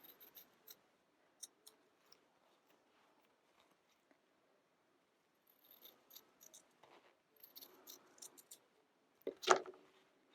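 Scissors trim quilt-block fabric in a quiet room, giving a few faint, scattered snips, then a cluster of cutting sounds and one sharp, louder cut near the end.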